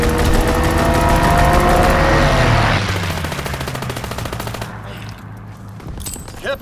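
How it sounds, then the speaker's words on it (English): Sustained, loud machine-gun fire from a fighter aircraft strafing run in Call of Duty WWII, a dense rapid burst that fades after a few seconds into softer scattered shots and rumble. "Fighter pilot inbound, strafing the target."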